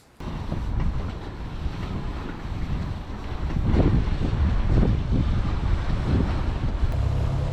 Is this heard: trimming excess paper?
no